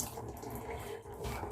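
Water trickles and splashes softly as it is poured while an indoor plant is cleaned, a faint continuous running flow with a brief dip midway.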